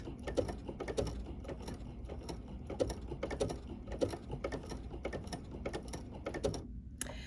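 A BERNINA 880 PLUS sewing machine stitches a crystal onto a bracelet, giving a close, rapid mechanical ticking that runs evenly before stopping abruptly near the end.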